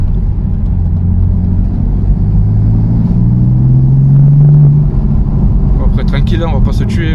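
A BMW M4 F82 engine rumbles steadily from inside the car and rises in pitch as it accelerates, with people talking over it.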